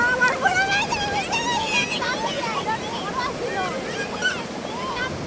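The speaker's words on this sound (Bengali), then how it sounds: "ঢেউয়ের আওয়াজ অসাধারণ" Ocean surf rolls steadily onto Inani beach at night, a loud continuous wash with wind buffeting the microphone, while voices chatter underneath throughout.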